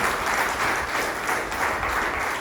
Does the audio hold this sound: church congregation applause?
yes